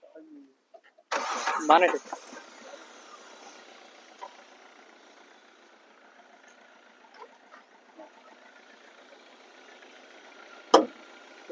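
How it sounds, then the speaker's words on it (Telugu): A 2012 Hyundai i20 engine cranks and catches in a loud burst, then settles into a quiet, steady idle. A voice briefly speaks over it, and a sharp click comes near the end. "ఒకసారి స్టార్ట్ చేయండి."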